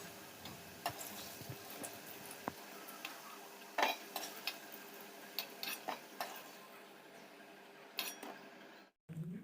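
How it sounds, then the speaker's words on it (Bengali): Fried potatoes scooped out of a wok with a ladle into a bowl: faint scattered scrapes and light taps over soft oil sizzle, fairly quiet and close. "এখন আমি কড়া থেকে হাতার সাহায্যে একটা বাতির মধ্যে সব আলুগুলোকে তুলে নেবো"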